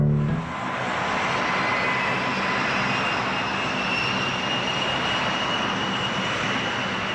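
An A-10 Thunderbolt jet aircraft flies overhead with a steady, loud roaring whine that sustains evenly throughout.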